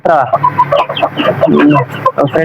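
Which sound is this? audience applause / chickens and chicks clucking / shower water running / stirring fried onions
chickens and chicks clucking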